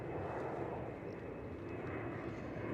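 Faint, steady engine rumble from a KLM Cityhopper airliner at Schiphol Airport, heard at a distance throughout the short stretch without any talking.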